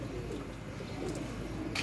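A female pigeon coos softly in a few low, rounded calls against a quiet room background, faint and close.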